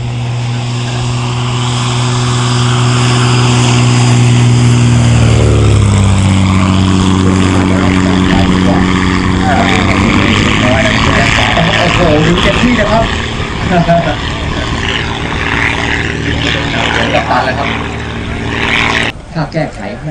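A propeller aircraft engine drones steadily at medium revs, about 4,500 RPM, loud and close, with a strong humming tone that shifts slightly in pitch before cutting off near the end.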